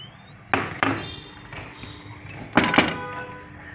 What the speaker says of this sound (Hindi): अभी देखना बस मैं ये दरवाज़ा बंद करूँगी